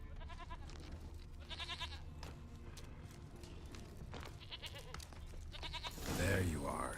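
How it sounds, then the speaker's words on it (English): A goat in The Witcher 3 bleats several times in short, wavering calls, spaced apart over quiet game ambience, with talk in the background and a louder thump near the end. "Okay, that's the goat."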